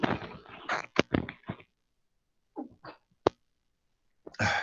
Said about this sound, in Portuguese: Só um minutinho que eu tenho que espirrar.